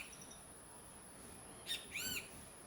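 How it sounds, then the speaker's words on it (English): A small yellow bird chirps twice in the background, a short high call followed by a longer warbling phrase, over a steady quiet hiss with no talking. "Such a beautiful bird."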